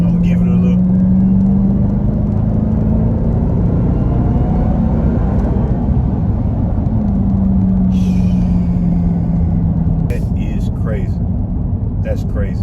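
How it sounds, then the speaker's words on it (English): A 2023 Dodge Durango Hellcat with a supercharged Hemi V8 accelerates: a rising supercharger whine rides over a loud, steady engine and road rumble, with brief voices near the end. "That whine in the Hellcat is just crazy."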